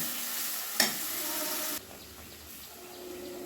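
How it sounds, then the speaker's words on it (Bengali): Ground and paste spices fry in oil for a snakehead fish curry, a bright steady sizzle with a sharp clatter near the start, dropping abruptly to a quieter simmering hiss partway through, with no talking. "এবার মশলা খুব ভালোভাবে কষে নেব।"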